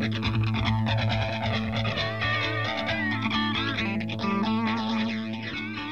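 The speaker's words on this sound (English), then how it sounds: "Here's a sample of a guitar playing through the phaser effect." An electric guitar plays chords through an Empress Effects phaser pedal, its tone swirling and shifting steadily, loud and up close with no talking.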